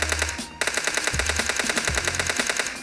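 Rapid bursts of automatic gunfire from PUBG Mobile Lite, loud and close, firing in quick repeated volleys with brief pauses between them, no talking over it.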